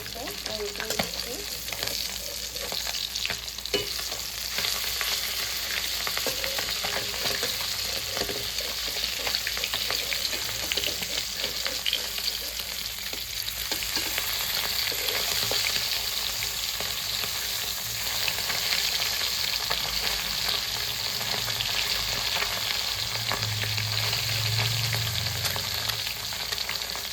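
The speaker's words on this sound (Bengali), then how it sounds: "এবার আমি মাছগুলো ভেজে নেব।" Chapila fish frying in hot oil in a pan, a continuous loud sizzle and crackle with occasional stirring scrapes, steady from start to finish.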